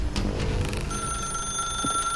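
A telephone rings in the video game The Stanley Parable, a faint electronic ringing tone held steadily over low background hum, with no voices.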